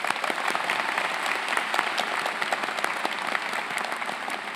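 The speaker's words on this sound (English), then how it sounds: "can we please give another round of applause to Mrs." A large audience claps at a high school commencement ceremony, dense, even applause from many hands that holds steady without cheering or voices.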